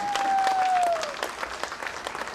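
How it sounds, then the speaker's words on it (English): Round of applause from the audience at a women's summit morning session, steady clapping that starts full and thins slightly, with a brief whistling tone sliding down near the start. "Can we give her again a big round of applause?"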